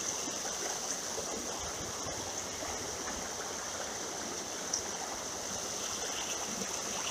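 Steady creek water flows and trickles throughout at moderate level, a continuous broadband rush with no talk, recorded beside a creek during a fishing outing.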